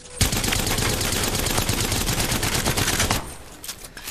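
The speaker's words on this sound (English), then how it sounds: "let's go ahead and just shoot over here" The Havoc rifle in Apex Legends fires full auto in one loud, continuous burst of rapid shots for about three seconds, then cuts off abruptly with only faint trailing noise.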